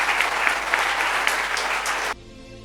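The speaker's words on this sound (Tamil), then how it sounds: "பள்ளிகொண்டா திரு மோகன்குமார் அவர்களை உங்களது கைத்தட்டல் கீழே அழைக்கிறேன்" An audience at a Pongal special debate event claps steadily in welcome for about two seconds, and the applause then stops abruptly.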